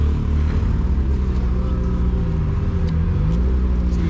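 A Polaris RZR side-by-side driving through snow, its engine revving loud and steady with a deep rumbling drone that rises and falls slightly, heard up close with no talking.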